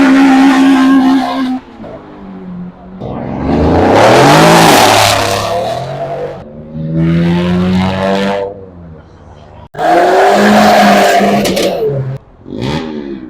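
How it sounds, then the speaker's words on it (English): Japanese cars leaving a car meet rev hard and accelerate past one after another, loud and close by the roadside, with rising engine notes, gear changes and brief tire noise, and people talking in the background. "I'm heading to the roadside to film some revs and some send-its."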